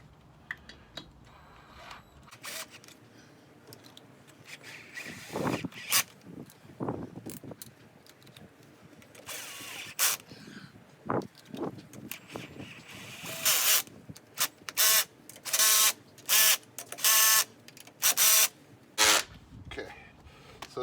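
Bolts on the front fender of a 2010 Dodge Caliber being started and tightened: scattered quiet clicks and scrapes, then a run of sharp, regular ratcheting bursts near the end, fairly close and with no talking.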